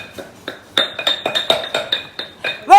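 Khao Soi curry paste ingredients being pounded in a mortar during a Thai cooking class, a steady run of sharp, close knocks and clinks about every quarter second, with a brief voice at the very end.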